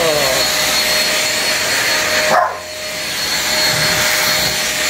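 A handheld vacuum cleaner runs on carpet with a steady whining roar, briefly dipping as the nozzle shifts, then continuing loud and close.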